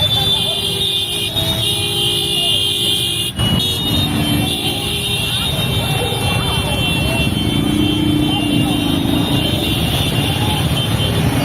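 Traffic jam on a city street in Darbhanga: a dense, continuous roar of car and motorcycle engines with honking and steady road noise, loud and close throughout.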